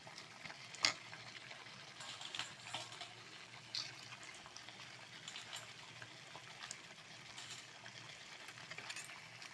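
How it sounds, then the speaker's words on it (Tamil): Crab pieces sautéing in a pan for a crab gravy, a faint crackling sizzle with occasional stirring scrapes and small clicks, quiet and steady. "இப்போ நண்டை உள்ளே சேர்த்து நல்லா வதக்கிக்கலாம்."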